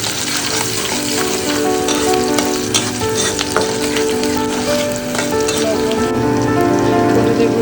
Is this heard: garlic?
yes